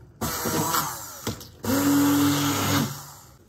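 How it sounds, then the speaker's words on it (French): An immersion blender whirs in short bursts through a thick vegan faux gras, with a brief pause and then a longer, louder run whose pitch holds steady before tapering off. "je vais la mixer au mixeur plongeant"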